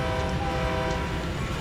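A CalTrain MP15DC locomotive on the Peninsula Corridor in the Train Sim World video game sounds its horn for a railway crossing, a steady loud sustained blast over rumbling rail noise throughout.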